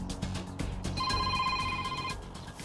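A telephone rings at home with a bright electronic trill lasting about a second, heard faintly over a low background murmur and rustle.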